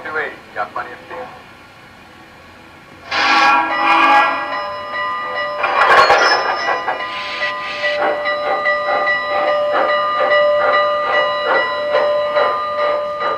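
An MTH DCS model steam locomotive plays its sound effects: a sharp hiss of steam bursts in, then a bright repeating bell rings steadily while rhythmic chuffing builds underneath, all fairly loud and close.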